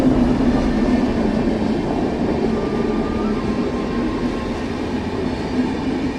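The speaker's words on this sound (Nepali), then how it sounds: "यो ट्रेन गइरहेको छ भने अर्कोपट्टि एउटा ट्रेन उभिरहेको पनि छ।" An electric train rolling past up close, a loud continuous rumble and rushing hum held steady throughout, with no talking.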